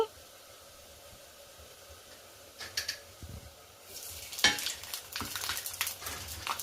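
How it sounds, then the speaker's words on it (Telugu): Bombay rava and sago vadiyalu frying in hot oil: a soft sizzle swells into louder bubbling crackle in the second half, with a few scraping stirs close by. "మాడకుండా మూడు నాలుగు మాత్రమే వేసి వడియాలను అయితే వేయించుకోవాలండి"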